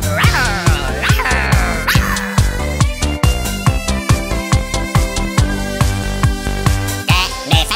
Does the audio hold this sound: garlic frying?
no